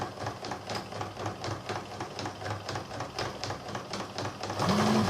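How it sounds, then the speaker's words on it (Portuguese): A sewing machine runs steadily, stitching around fabric for a fabric coaster made with the lasagna patchwork technique, its needle chattering in a fast even rhythm close up, growing a little louder near the end. "E vamos passar a costura aqui em volta."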